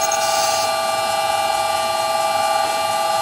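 Metal lathe on an old manual machine taking a light cut of about 0.2 mm with a carbide tool at 1000 RPM, a steady high whine with ringing tones, continuous and close with no talk.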